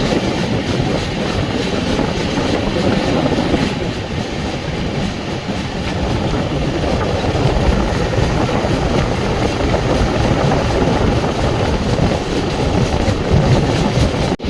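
Inside the Coimbatore LTT Express sleeper coach, a loud, continuous rumble of wheels on rails with a faint clickety-clack runs steadily throughout, and no one speaks.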